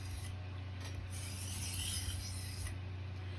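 A kitchen knife blade drawn steadily across a sharpening stone at a held angle, giving a continuous close raspy scraping with slight swells, over a low steady hum.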